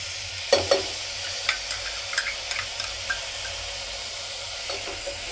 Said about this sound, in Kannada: ಮೊಸರು ಹಾಕ್ಕೊಂಡು ಚೆನ್ನಾಗಿ ಈ ಥರ ಫ್ರೈ ಮಾಡಿಕೊಂಡು